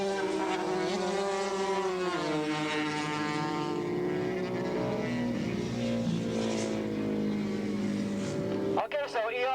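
Motorcycles race at Willow Springs International in a 1985 AFM event with twins, Formula 4 and vintage classes, engines droning and shifting pitch continuously under steady commentary, with a brief louder burst near the end.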